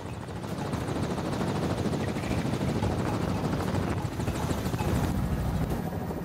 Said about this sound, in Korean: 하늘에서 보는 헬리콥터 투어가 서서히 착륙하기 위해서 내려오는데